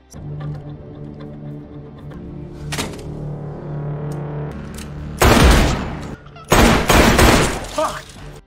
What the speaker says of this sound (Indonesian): Sialnya, Philip terkena tembakan.